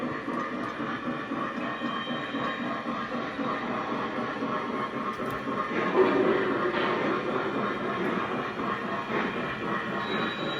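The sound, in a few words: model freight train running on track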